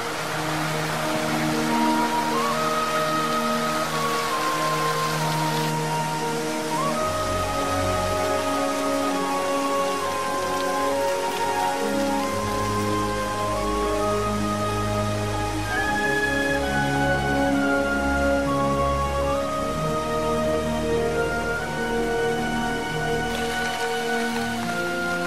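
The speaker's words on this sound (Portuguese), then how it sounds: "A água cai dos penhascos, barulhenta, sobre as planícies secas." Water pours noisily off cliffs onto dry Brazilian plains, a broad, unbroken rushing hiss heard under swelling orchestral music.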